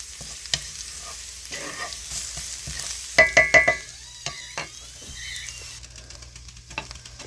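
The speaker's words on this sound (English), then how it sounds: "Just fusing the garlic to get it going, just for about a minute. Then I'm going to add my cabbage." Garlic sizzles in a hot pan before cabbage goes in: a steady fry with a few quick spoon taps and scrapes near the middle, close by and without talk.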